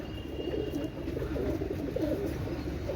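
Pakistani fancy pigeons coo softly in a loft, a low rhythmic warbling murmur running continuously under steady background noise with no talk.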